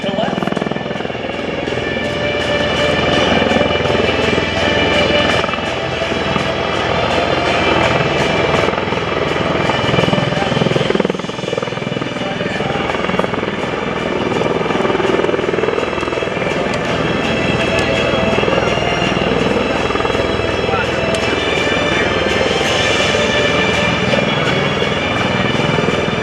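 MV-22 Osprey tiltrotor making a sliding pass at an airshow, a loud steady rotor and engine roar with a thumping beat that holds for the whole stretch while an announcer speaks over a public address.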